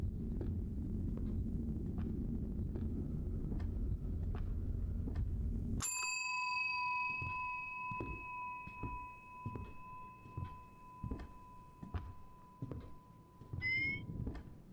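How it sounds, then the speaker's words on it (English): A bell rings once with a bright sustained tone that slowly fades, followed near the end by a quicker second ring, amid repeated soft clicks and a low rumble that drops away as the bell sounds. "Oh, I need to ring the bell again, that's right."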